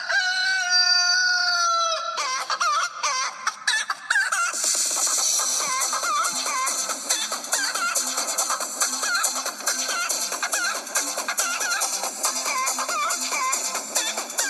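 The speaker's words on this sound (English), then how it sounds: "That's a crazy chicken." A rooster crows loudly and up close, followed by a dense, busy stretch of chicken clucking and cackling that carries on to the end.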